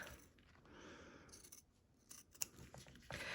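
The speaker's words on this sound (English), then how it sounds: "Give yourself some positive tension to make those scissors slide easier." Quiet, close snipping of applique scissors cutting through a sheet of vinyl, a few soft crisp cuts with slight rustling between them.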